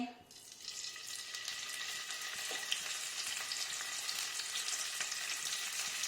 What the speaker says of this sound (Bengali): পনিরগুলো ছেড়ে দিলাম, অল্প একটু নুন দিয়ে